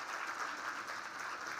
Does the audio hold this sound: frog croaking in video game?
no